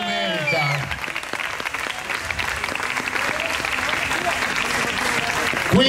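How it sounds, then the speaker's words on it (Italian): Audience applause at a tribute show at an outdoor young people's festival in Albignasego, near Padua: dense, steady clapping that keeps up for several seconds after a short burst of music fades out at the start. "facciamogli già un applauso qua adesso"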